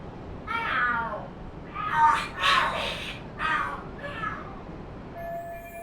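Cats screaming and fighting in the video game Lost Judgment, several drawn-out yowls in a row over a low background hum, with no talk.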